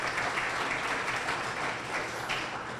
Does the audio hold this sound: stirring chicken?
no